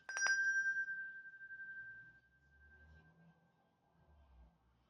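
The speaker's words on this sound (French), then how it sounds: "Petit coup de cloche." A small bell is struck once, giving a bright ringing tone that decays slowly over a few seconds, with faint low background rumble afterward.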